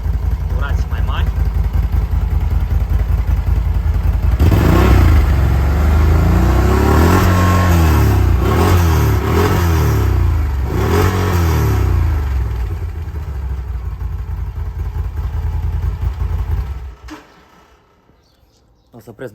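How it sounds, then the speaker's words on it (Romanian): A Can-Am Outlander 1000 XMR ATV on its original exhaust is revved several times up close, the engine rising and falling in repeated bursts before dropping off as it is shut down. "Dau și puțin gaz să vedeți cum se aude la durații mai mari."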